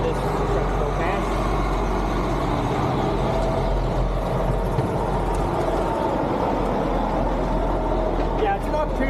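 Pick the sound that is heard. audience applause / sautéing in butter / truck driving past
truck driving past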